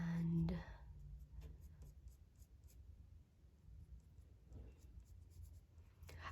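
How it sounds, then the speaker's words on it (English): A pen drawing eyes on paper during an arts and crafts session: faint, close scratchy strokes in short uneven bursts, quiet under a low background hum with soft breathy voice sounds. "now I'll draw the eyes."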